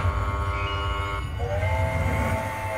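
Train sounds from the Railroad Riches slot video game: a loud rumbling rail-car effect with a steady tonal horn blast that shifts pitch partway through, alone without talk.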